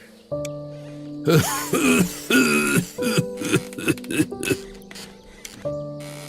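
Someone coughs repeatedly in a rough fit of short hacking bursts, close by, over a low steady tonal background hum.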